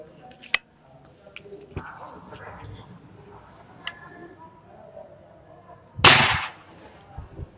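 Air rifle shot from a Monster M3 firing Mimis Hercules pellets, a sharp broadband crack standing out after scattered small clicks and handling noise, with faint talk in the background.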